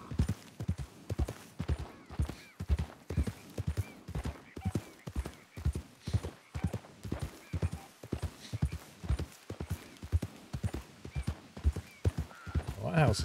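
A horse pulling a cart in the video game Red Dead Redemption 2 trots with a steady, rhythmic clip-clop of hooves that carries on clearly and evenly for over ten seconds.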